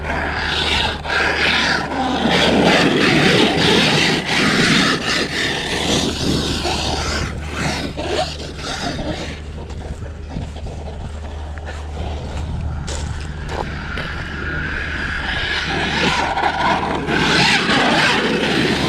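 A Traxxas Mojave RC truck with stripped rear differential gears runs hard close by. It makes a loud, continuous grinding whir with scraping and rattling bursts that swell and ease throughout.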